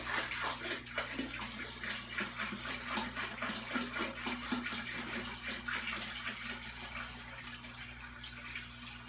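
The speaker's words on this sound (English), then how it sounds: "Fucking splashing." Water splashing and pouring from plastic jugs during a saltwater reef aquarium water change, a steady continuous rush with irregular splashes, close and fairly loud throughout, over a low constant hum of tank equipment.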